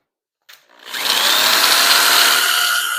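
A power tool cuts through roofing material being trimmed to length for an Ump modified race car roof, starting after a brief tap and then running as a loud, steady, high-pitched grinding whine to the end.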